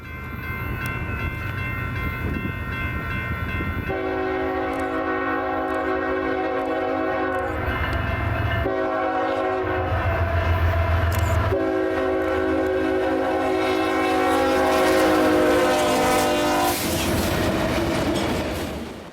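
A CSX freight train coming off the Lockhart subdivision near San Marcos, Texas, passes with a continuous rumble of wheels and cars. Several long blasts of its chime horn sound loud and close, separated by brief gaps.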